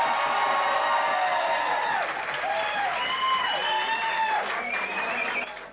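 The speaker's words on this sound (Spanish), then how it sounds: "Aplausos también para Gonzalo Flores." A live talent-show audience claps and cheers for a contestant, a full, continuous burst of applause with whoops rising above it, fading slightly at the end.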